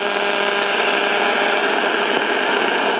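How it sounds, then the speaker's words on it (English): Steady radio static and buzzing interference on the AM broadcast band, with a droning hum and faint whining tones, harsh and unbroken throughout, as power returns after an outage. "You can hear how much the RFI just kicked up when the power came back on."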